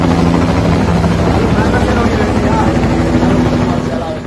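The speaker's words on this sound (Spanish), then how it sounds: "Y vimos un helicóptero rondando." Helicopter circling overhead, its rotor producing a loud, continuous throbbing drone that fades slightly at the end, with a voice talking over it.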